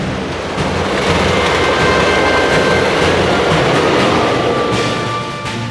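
A train rolls along a railroad running through a prison, a loud, steady rumble with faint rhythmic clatter and thin metallic squeals. It builds in over the first half-second, holds for several seconds, then eases slightly.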